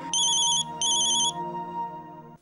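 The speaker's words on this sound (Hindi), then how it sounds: "ओह, पापा का फोन," A phone ringtone chimes in two short bursts of bright, repeated electronic tones over a soft background hum, close and clear, with no talking.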